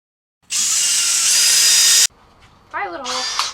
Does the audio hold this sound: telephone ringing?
no